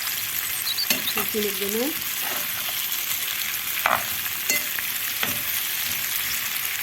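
Potatoes with onion and peppers fry in a pan on a stovetop, with a steady sizzle and repeated scraping strokes of stirring, near and loud, while a voice makes a brief remark.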